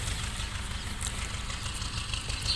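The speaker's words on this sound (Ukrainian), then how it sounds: "Вже сусід завів трактора." A neighbour's tractor engine running outdoors in a garden, a steady low rumbling idle heard continuously at a moderate distance.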